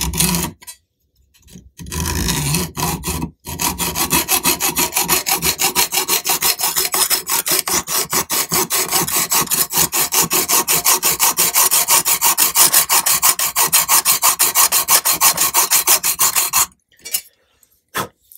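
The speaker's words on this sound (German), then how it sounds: "Ich schaue, dass ich die Schraube mittig erwische und setze hier mit meiner Bügelsäge" A hacksaw cuts a slot into the damaged head of a crosshead screw, a fast, even back-and-forth rasp of many close strokes running steadily for about thirteen seconds, alone with no talk.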